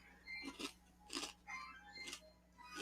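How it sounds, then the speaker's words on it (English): Someone eats close to the microphone, making loud crisp crunches in several bursts with short pauses between them, with nothing else heard over it. "you done crunching loud as fuck?"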